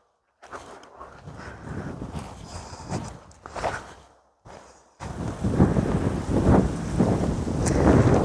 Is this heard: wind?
yes